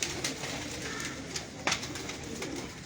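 A large pigeon kept on a rooftop in Punjab, cooing softly amid a hissy, busy outdoor background, with a few brief louder calls but no clear voices.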